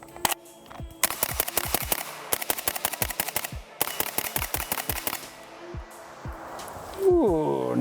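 Rifle shots fired through a HuxWrx Flow 556K suppressor crack in a fast, regular string of sharp reports with brief pauses between bursts, close and loud, followed by a person speaking at the end.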